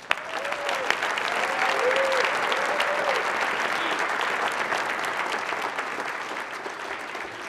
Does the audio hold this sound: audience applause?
yes